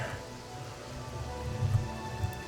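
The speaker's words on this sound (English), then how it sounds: "Got herself a little rainstorm." Rainstorm in Oblivion Remastered, a steady hiss of rain with low rumbling underneath, continuous and fairly close, with no talking.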